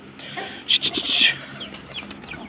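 Desi chickens clucking close by in a farmyard coop, a short burst of loud squawks and clucks followed by softer calls.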